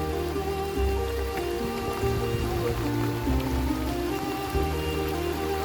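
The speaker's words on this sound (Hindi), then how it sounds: "धारा का पानी तेज हो गया।" A fast-flowing mountain stream on a rainy trek near Panwali Kantha gives a steady, dense rush of water that stays even throughout, with faint tonal sounds underneath.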